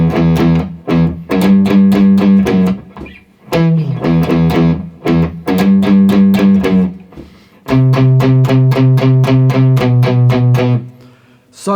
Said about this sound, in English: So I'm going to teach you that bass part because it's pretty cool to play on the guitar.